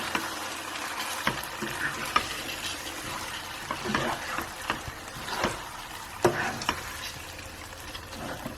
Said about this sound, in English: So it's the coconut milk, and I'm just going to mix that through for a few minutes.